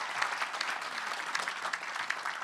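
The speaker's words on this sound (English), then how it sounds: "So let's give another round of applause to our" An audience at a Rotary district conference session gives a round of applause for the district governor team, a steady, even patter of many hands clapping without any voices over it.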